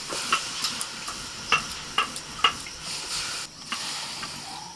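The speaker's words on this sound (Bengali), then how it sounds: "লাউ শাক ভালো করে ধুয়ে নিয়েছি, একেবারে জল থেকে তুলে কড়াইতে দিয়ে দিচ্ছি।" Freshly washed, still-wet bottle gourd greens land in a hot wok and sizzle with a continuous close hiss, broken by a series of sharp crackles and clicks as they are tossed and stirred.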